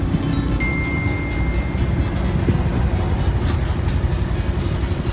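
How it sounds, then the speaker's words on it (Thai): A 2020 Honda Super Cub motorcycle engine idles steadily and softly, a close, even low hum with faint ticking over it and no voices. "เครื่องยนต์เงียบมากนะครับ"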